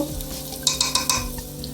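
Tempering spices such as cumin sizzling in hot oil in a pot for a village-style green onion vegetable dish, a soft continuous crackle with a few sharper pops and light stirring clinks.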